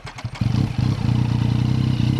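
Yamaha MT-09 with a full Akrapovic exhaust fires up after a brief crank and settles into a loud, deep, steady idle close by, with a slight lumpy pulse and no talking.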